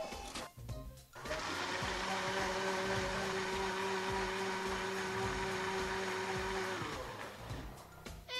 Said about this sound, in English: Drag all the herbs and flowers to the mixer, then click mix to blend the antidote.